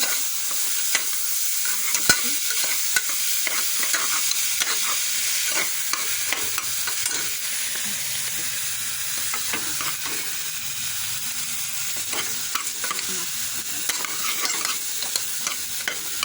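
Ingredients for a green gram (moong dal) pongal are dry-roasted and stirred in a pan. A continuous crackling sizzle plays throughout, broken by frequent sharp scraping strokes, close and even, with no voices.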